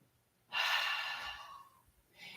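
A deep yogic inhale is drawn through the nose in a quiet room, one long, close breath that fades slowly, followed by the soft start of another breath.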